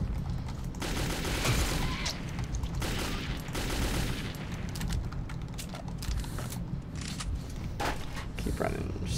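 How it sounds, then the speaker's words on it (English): Sustained automatic gunfire in the video game Metro 2033, a dense, loud stream of rapid shots with growls or grunts mixed in, continuous over the whole stretch. "machine gun"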